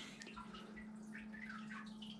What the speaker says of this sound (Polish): Szum wody.